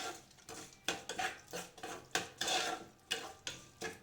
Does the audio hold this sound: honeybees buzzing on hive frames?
no